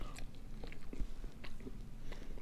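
Biting and chewing into an individually wrapped habanero bacon snack, with a few soft crunchy bites and close, quiet mastication sounds.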